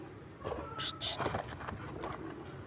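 Pigeons coo softly in a home loft where young chicks, including a white-headed dasu pigeon, have hatched; low, rounded calls and faint rustles come from close by, with a brief human murmur mixed in.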